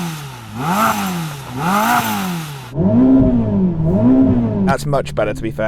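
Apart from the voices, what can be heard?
Ferrari SF90 engine revving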